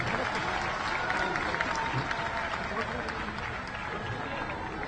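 A large crowd at a public political meeting in Raipur applauds in welcome, a dense, steady roar of clapping that holds loud for the full stretch.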